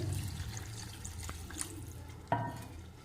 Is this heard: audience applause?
no